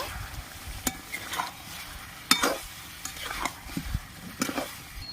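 Whisked sour yogurt sautéing in a pan with meat that has released its oil, giving a steady low sizzle broken by repeated scraping stirs of a spoon against the pan, close and moderately loud.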